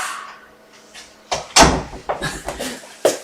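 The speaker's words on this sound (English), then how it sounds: "And maybe I will shut the door again" A door is shut indoors with a series of sharp bangs and knocks. The loudest thump lands mid-way, followed by several smaller rattling hits and a final knock. No one speaks.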